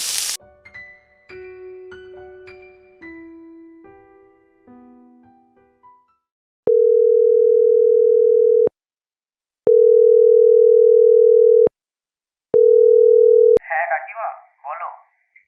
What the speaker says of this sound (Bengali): আমি বরং সুবিনয়কে একবার ফোন করে জিজ্ঞাসা করি